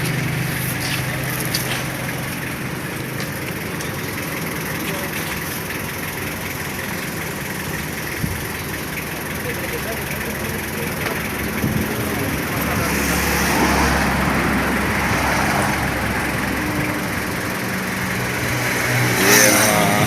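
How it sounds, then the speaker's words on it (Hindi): A car carrying security guards to their morning shift runs and pulls away, a steady engine rumble that swells slightly as it drives off, with people talking nearby. "तो अब ये हमारा गाड़ी जा रहा है शिफ्ट के लिए।"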